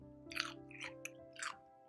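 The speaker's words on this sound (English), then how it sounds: "I'm just too busy munching and chewing on this leaf" A caterpillar munches on a leaf in an animated Earth Day story: a few soft, crisp chewing crunches, close and quiet, over a gentle sustained musical tone.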